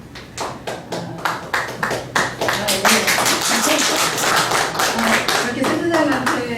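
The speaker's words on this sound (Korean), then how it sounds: "센터장한테 저기 박수 쳐주는 거는 거의 없는 일 같은데" Audience at a Jeju history lecture applauds a research center director, a burst of hand claps that starts sparse and builds into steady, dense clapping filling the room, with a voice speaking over it.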